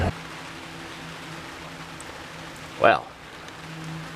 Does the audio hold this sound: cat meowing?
no